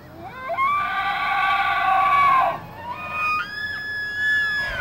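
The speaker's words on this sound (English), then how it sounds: "And then what you just heard there was a bugle or a whistle." Tule elk bull bugling during the rut at Point Reyes, a long, loud rising whistle that holds for about two seconds, then breaks into shorter high-pitched whistling tones.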